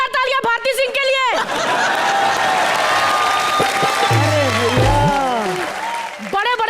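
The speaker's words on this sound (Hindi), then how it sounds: "एक बार जोरदार तालियां भारती सिंह के लिए।" A studio audience claps loudly at a Hindi comedy show, with chuckles and voices mixed in, bracketed by speech at the start and end.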